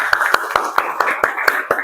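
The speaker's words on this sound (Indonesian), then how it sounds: "Tepuk tangannya belum berhenti loh." A class of vocational students claps hands together in a room, a steady run of about eight sharp, evenly spaced claps that stay loud and close, with no talking over them.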